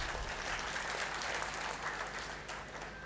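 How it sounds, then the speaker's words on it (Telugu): An audience at a political speech claps in a continuous, dense patter that sounds distant and fairly faint and holds steady for a few seconds. "నాతో సమ్మతించే వాళ్ళు గట్టిగా చప్పట్లు కొట్టవచ్చు"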